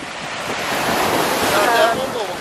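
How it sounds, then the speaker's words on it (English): Rough ocean surf on a Florida shore, a loud continuous roar of breaking waves mixed with heavy wind buffeting the microphone. "the ocean's a little rough."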